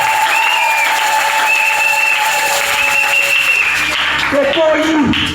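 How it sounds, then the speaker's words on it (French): A Sunday worship congregation at a Full Gospel church applauds in a dense, continuous wash of clapping, with voices and sustained tones carrying over it until it tapers at the end. "Acclamez pour le prophète."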